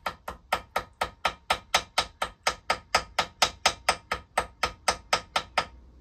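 A ball-end hammer taps inside bolt holes in metal, landing about twenty sharp, evenly spaced strikes in a steady brisk rhythm, close and clear with no talk.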